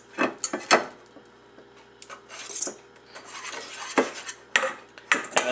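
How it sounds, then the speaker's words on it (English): A stick of softened butter mashed around in a bowl for homemade cinnamon roll filling, with a utensil clinking and scraping against the bowl in irregular close knocks and smears. "you can put in your 1 stick of softened butter and then kind of mush it around a little"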